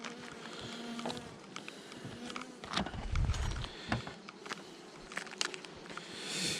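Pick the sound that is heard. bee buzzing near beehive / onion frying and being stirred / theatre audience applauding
bee buzzing near beehive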